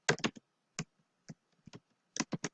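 Quick bursts of keystrokes on a computer keyboard, a few clustered clicks, a pause with scattered taps, then another rapid flurry, close and fairly quiet.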